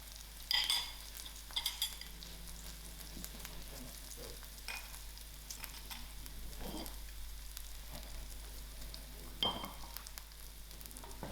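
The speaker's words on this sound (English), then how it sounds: "My garlic and chilies is fried out" Garlic and green chilies frying in oil in a pot for a spicy fish head curry, a quiet steady sizzle broken by several sharp spatula scrapes and clinks, close but soft, no voices.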